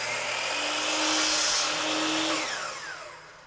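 Power miter saw slicing a 45-degree miter through wood molding, a loud continuous whine and cutting roar that holds steady for a few seconds before winding down as the blade spins off.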